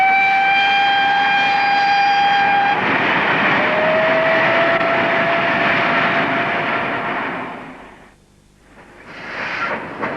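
Steam locomotives Flying Scotsman and Pendennis Castle running as a double-header near a road flyover, a loud sustained roar of passing train noise with a long whistle blast at the start, fading and then swelling again.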